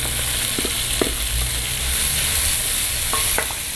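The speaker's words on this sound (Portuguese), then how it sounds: "Vou refogar a cebola juntamente com o alho e a calabresa." Red onion, garlic and calabresa sausage sautéing in a pot for lentil rice, a constant close sizzle broken by a few scraping clicks of the spoon as it is stirred, with no speech.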